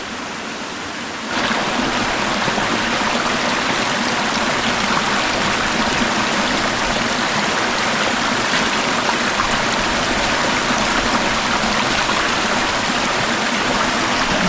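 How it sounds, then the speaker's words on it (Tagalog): Cold mountain water rushes from a hose onto hands being washed outdoors. The flow is loud and steady, begins suddenly after a moment of quieter background, and runs on without a break with no talking. "Hugas muna tayo ng kamay."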